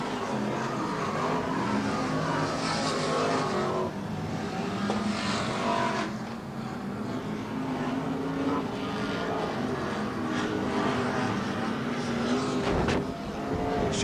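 BriSCA F1 stock cars roar around an oval track during a 2000 World Semi-Final, their engines in a dense, continuous rumble with rising and falling passes heard from the stands.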